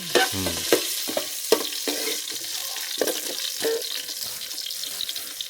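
Mustard seeds and chili frying in hot oil for a jackfruit vegetable dish, a steady close sizzle broken by sharp crackles and pops as the seeds spatter, with no voices.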